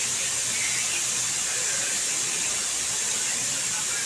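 A mixer grinder runs nonstop at close range, grinding a hair pack and producing a loud, steady high whirring hiss that fills the whole clip without a break.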